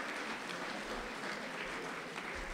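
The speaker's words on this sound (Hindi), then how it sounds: "आप ये डरी डरी तालियां ना बजाए" A mushaira audience in Bahrain claps in a steady, dense wash of applause, continuous and moderately distant, with no voices over it.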